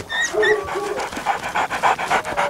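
A dog pants in quick, rhythmic breaths on a street in plague-era London in 1665, with a few whimpery high notes at the start and steady, fairly close huffing throughout.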